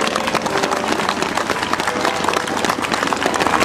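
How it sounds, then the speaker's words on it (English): An audience at a Christmas gathering in Huntly claps for honoured citizens of the year, with dense, even applause at a moderate level throughout, filling the space without voices. "And a nice round of applause for them"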